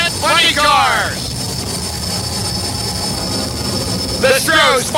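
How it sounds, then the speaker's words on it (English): Stroh's jet funny cars, a Firebird and a Dodge Charger, roar at a drag strip starting line as their afterburners fire, a loud sustained jet blast with surging bursts at the start and end, while an announcer talks over it. "The track lights have been turned off for the starting line firefight between the Stroh's Jet Funny Cars."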